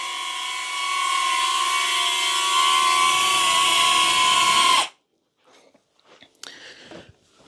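A tiny DJI Neo drone hovers close by with a steady, high-pitched propeller whine for about five seconds, then cuts off abruptly, leaving near silence broken by faint scattered handling noises.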